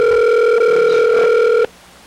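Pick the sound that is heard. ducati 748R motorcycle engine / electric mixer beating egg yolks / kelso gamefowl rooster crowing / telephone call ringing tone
telephone call ringing tone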